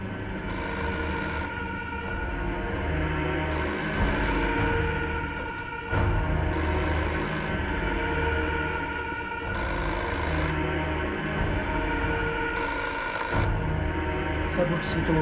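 Five evenly spaced ring bursts from a telephone in the video game Fahrenheit repeat steadily over a droning background bed, each ring loud and close, with no pauses in the underlying game ambience.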